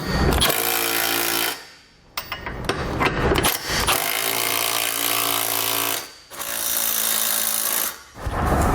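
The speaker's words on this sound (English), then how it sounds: "With all of our hardware in place, now we can go ahead and tighten them down." A power tool runs at full, loud buzzing output while tightening trailer hitch bolts on a 2018 Toyota Sienna, in several long sustained bursts with brief pauses between them, close to the work.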